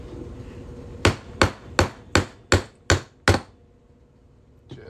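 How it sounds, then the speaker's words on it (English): Seven sharp metallic hammer blows drive a half-inch steel punch through a quarter, ringing out at an even pace, each decaying quickly, followed by a brief quiet pause and a faint final knock. "We're just going to hammer this half-inch punch straight through the quarter."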